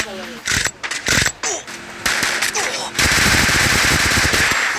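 Rapid automatic gunfire from MB40 and Skyler guns in a shooter video game, in dense bursts and broken volleys that turn into a sustained stream, with a voice talking over parts of it.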